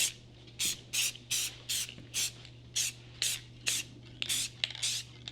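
Spray can painting a DVD drive from close range, about a dozen short rhythmic hissing bursts of spray, evenly spaced, over a faint steady hum.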